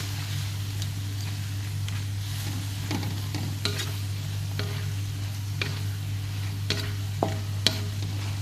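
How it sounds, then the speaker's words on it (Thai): Drunken noodles seasoned with oyster sauce, seasoning powder and a little sugar are stir-fried in a pan, giving a steady close sizzle with scattered scraping clicks of the utensil over a constant low stove hum; no one speaks. "ก็จะค่อยๆผัด ค่อยๆผัดไปนะคะ"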